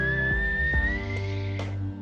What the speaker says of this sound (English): we're just going to inhale through a whistling mouth